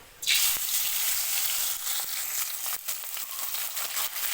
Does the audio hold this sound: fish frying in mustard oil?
yes